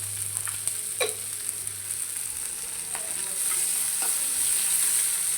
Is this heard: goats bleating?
no